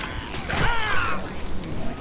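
Weapon reloading in the Left 4 Dead 2 zombie shooter game, a fairly loud mechanical sequence of clicks, creaks and ratcheting metal parts over about two seconds amid busy in-game background noise.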